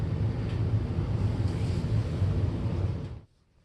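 Rainbow Mate vacuum clamshell parts being rinsed under running water, a steady broadband rushing wash at close range that cuts off abruptly near the end, with no talking.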